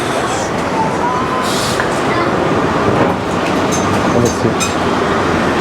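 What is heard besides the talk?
indoor airport train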